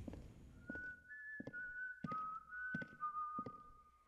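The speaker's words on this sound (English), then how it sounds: "You can whistle at me all you want" A character in the horror game White Day whistles a sustained, wavering tune. Sharp footstep-like thuds fall in a steady rhythm beneath it.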